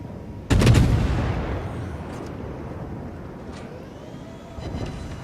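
A single heavy cannon shot from the warship Gneisenau in World of Warships, a sudden loud boom that rolls away into a long fading rumble, with faint later distant reports.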